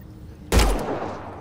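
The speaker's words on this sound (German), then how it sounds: "Schießen Sie mal auf diese Treibstoffzelle." A single sharp gunshot at a fuel cell in Mass Effect Andromeda, a sudden loud blast after a quiet moment, trailing off into a decaying rumble.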